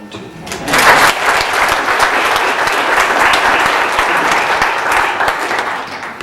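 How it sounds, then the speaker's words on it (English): Guests at an anniversary reception break into applause, a loud, close burst of many hands clapping that swells quickly and holds steady for several seconds. "Clap for them too."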